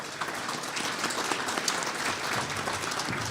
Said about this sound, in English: A round of applause for the Super Farm and Hot Farm divisions.